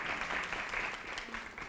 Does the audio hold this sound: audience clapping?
yes